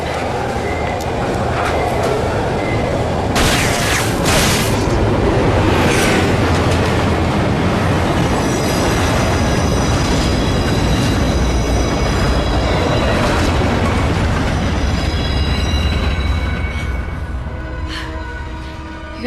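A subway train rushes along the rails with a loud, sustained roar and rattle, punctuated by sharp metallic screeches and bangs, staying close and intense before easing slightly at the end.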